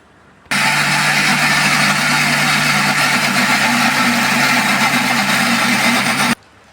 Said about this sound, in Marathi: आता तिला मी मिक्सरमध्ये दळते